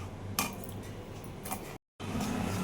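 Cardamom seeds being stirred in a pot give light metallic scrapes and clinks. The sounds come in a few close, brief bursts, with a short silent gap near the end.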